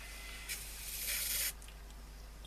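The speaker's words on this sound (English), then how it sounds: "All you do, spray it on" Foam cleaner sprayed from an aerosol can during cleanup of a Haxker Ranger RP70 pressure washer, two hissing bursts, a short one followed by a longer, louder spray, over a steady low hum.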